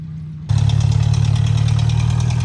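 A tractor engine turns over and settles into a steady, loud idle, driven by a girl learning to operate it on a farm path near a shed; the running engine continues unbroken to the end.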